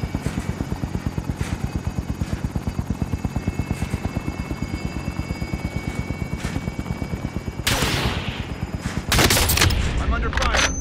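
Rapid, evenly paced gunfire rattles steadily through a video game firefight, with a helicopter-like drone underneath and sharper bursts of louder shots near the end.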